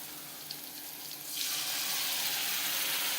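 Ground masala drops into a pan of frying brinjal curry. A quiet pan hiss rises abruptly about halfway through into a loud, steady sizzle that holds to the end, with no voices.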